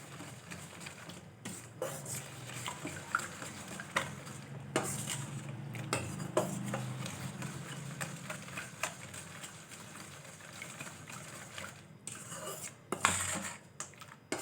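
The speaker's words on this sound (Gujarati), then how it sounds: "હવે આ બધી વસ્તુને આપણે એકદમ સરસ હલાવી દેવાનું છે." Chutney mixture with cornflour water stirred in a metal pot in a home kitchen, the utensil scraping and clinking steadily against the sides with occasional louder knocks, close and continuous with no talking.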